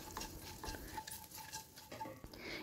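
Nigella seeds tempering in hot oil in a pan, with a soft continuous sizzle broken by light clinks and scraping stirs at an irregular pace, quiet and close.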